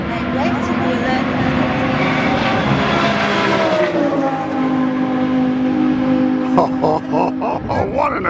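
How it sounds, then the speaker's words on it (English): Race cars roar around the circuit at Mortlake, Victoria: loud, sustained engine tones that climb and shift as the cars rev and pass, with people talking over the noise throughout. "They're quite loud, these cars."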